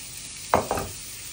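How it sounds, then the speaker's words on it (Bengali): Chopped tomato and onion fry in butter in a pan, heard as one brief stir, a short scrape and a second lighter stroke over a faint, steady sizzle. "এখন এই যে টমেটো আর পেঁয়াজটা একটু সিদ্ধ হবে, বাটারটা পুরোটাই দিয়ে দাও"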